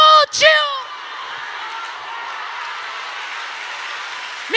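Church congregation applauding together, a steady dense wash of clapping that fills the space after a brief shout from the preacher at the start.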